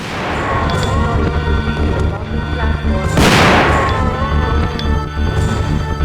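Shotgun fire in Resident Evil 2 Dual Shock Version with Leon: a loud, broad blast near the middle stands out over dense game music and effects, with other thumps and crashes around it.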